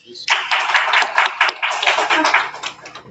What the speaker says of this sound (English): just clap it up for them.